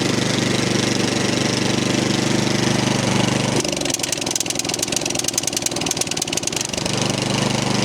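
A Powermore 208cc engine on an MTD snow blower idles during warm-up, a loud, close, steady mechanical drone that turns into a rapid, uneven rattling pulse midway before settling back to its smooth running note.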